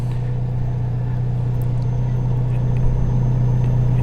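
Alfa Romeo 4C sports car engine idling with a steady low rumble and a constant hum, close and even throughout with no revving.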